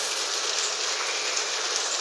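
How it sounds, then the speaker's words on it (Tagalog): Hail falling in Riyadh, Saudi Arabia: a dense, steady hiss of ice pellets striking surfaces, continuous and fairly loud throughout with no voices. "Ayan guys, umuulan ng yelo."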